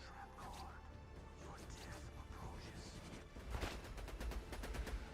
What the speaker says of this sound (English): Spam the grenades.